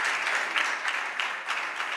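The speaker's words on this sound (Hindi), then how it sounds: "जरूर तालियां बजती इसके लिए।" An audience at a religious seminar session claps in a steady wash of applause, moderately loud, with a few sharper claps standing out through the brief stretch.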